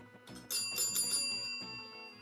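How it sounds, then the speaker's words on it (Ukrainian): A bright, shrill electric bell rings for about two seconds in a classroom, signalling the start of a lesson; it rings alone with no talking. "І зараз повинен продзвонити дзвінок на урок."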